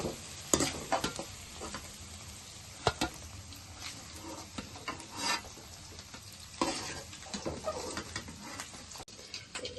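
Large pieces of onion fry in a pan for egg noodles, sizzling steadily while a utensil stirs and scrapes them, with occasional sharp knocks against the pan, close and moderately loud.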